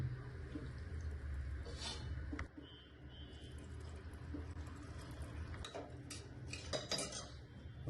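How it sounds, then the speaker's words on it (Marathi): Water is poured into a pressure cooker pot holding spiced rice for masala rice, a close, fairly quiet gush and splash with a few metal clinks of the pot and utensils, and no voice. "पाणी टाकतोय शिजण्यासाठी"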